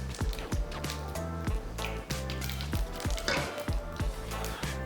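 A tempering of whole spices sizzles in hot light soybean oil, a loud, steady crackle with repeated bursts of spitting and popping, no voice over it.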